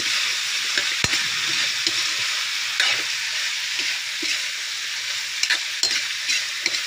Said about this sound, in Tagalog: Wild pig cooking.